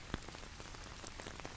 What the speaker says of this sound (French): Seul le rythme régulier de la pluie emplissait l'habitacle.